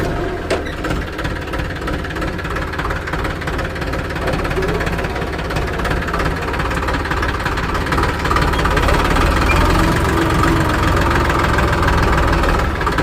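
A 2025 New Holland 3037 NX 39 HP tractor engine idles steadily up close, a continuous low diesel rumble with a knocking, vibrating texture that holds at an even loudness throughout.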